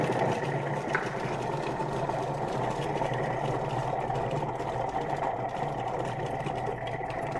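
A Thermomix chops ingredients on speed 4 with the lid on for a chicken meal prep, a steady mid-pitched motor whir running evenly and moderately loud throughout, with no pauses.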